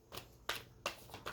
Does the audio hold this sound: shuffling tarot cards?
yes